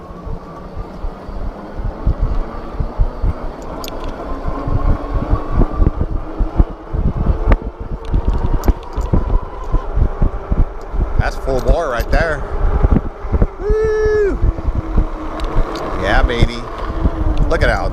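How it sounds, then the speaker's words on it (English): Rear hub motor of a custom BMX-style Lectric XP e-bike with freshly greased gears, running quieter while riding: a faint rising and falling whine sits under steady wind rush and road noise. "and my motor's a lot more quiet. I don't know if you can hear that."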